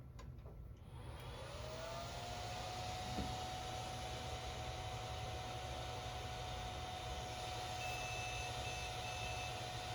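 A TAITO Senor Nippon arcade board emits a steady electronic beep pattern, a thin sustained tone running over a constant low hum and hiss of the powered-up hardware, with no talking.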